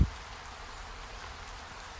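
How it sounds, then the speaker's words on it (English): Steady outdoor rain falls as a dense, even hiss with a low rumble underneath, continuous and fairly close with no voices. "I was just out here training in the rain."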